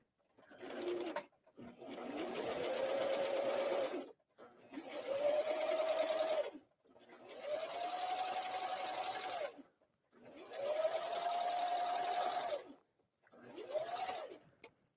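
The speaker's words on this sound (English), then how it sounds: "The whole idea is I'm serging this down, or cover stitching this down, and cover stitching this down." Serger or cover stitch machine stitching down a seam on a slit sleeve, running in five steady bursts of a few seconds each with short pauses between, a close mechanical whir that rises as each run speeds up.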